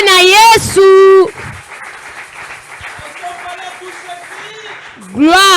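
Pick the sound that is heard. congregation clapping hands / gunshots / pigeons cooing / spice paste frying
congregation clapping hands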